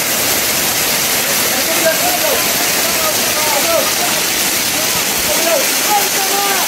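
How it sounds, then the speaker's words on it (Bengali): A waterfall at Jaflong in Sylhet roars with a constant, dense rush of falling water, and faint voices drift in and out beneath the steady noise. "ঝর্ণা ক্ষণে ক্ষণে তার ভয়াল রূপ দেখাইতেছে"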